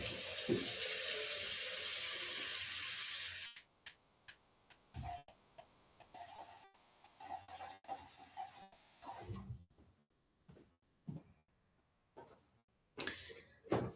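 A faucet runs steadily into a sink as murky paint water is poured out and replaced, a broad continuous wash that stops abruptly, followed by scattered clinks and splashes of a container being handled.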